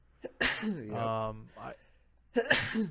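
A single sharp sneeze preceded by a quick intake of breath, followed by another short burst, close and loud.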